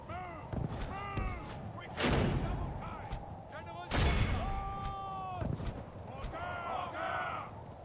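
Mortars fire in the Medieval 2 Call of Warhammer mod, on an Empire campaign battlefield. Two heavy booming blasts land a couple of seconds apart over a busy battle soundscape, with chirpy game effects around them.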